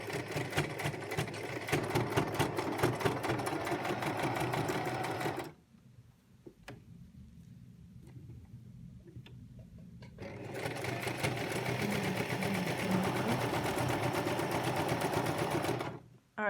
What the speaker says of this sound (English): when you've gone around once, you can take out the needles